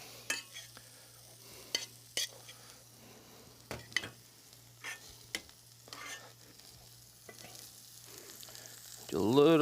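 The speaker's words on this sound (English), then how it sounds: "Gently stir that in." Chopped chives being stirred into warm rice in a pan, a soft sizzle under a faint low hum, with quiet scraping strokes of the spoon at irregular intervals.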